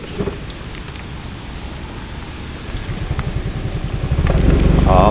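Rain easing off while riding a motorcycle along a flooded riverside road, a steady hiss of drizzle and wet road noise with a low engine rumble that grows louder toward the end.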